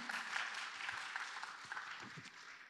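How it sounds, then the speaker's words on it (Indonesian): Audience applause at a panel discussion session, a steady wash of clapping filling the whole stretch at moderate level with no voices over it. "Tepuk tangannya."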